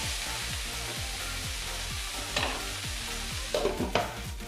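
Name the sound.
cauliflower frying in oil in a wok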